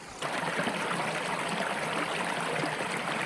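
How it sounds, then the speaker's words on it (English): A small spring by a creek in the woods trickles and burbles steadily close by, a continuous bright splashing flow with no voices. "there's a little spring here"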